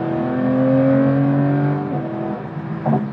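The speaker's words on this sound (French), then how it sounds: "c'est vraiment ce 6 cylindres Atmo qui chante comme ça à tous les régimes" A Porsche 911 GT3 with a naturally aspirated six-cylinder engine revs up, a clear harmonic howl climbing in pitch, held briefly, then dropping, with a short blip at the end, loud and close.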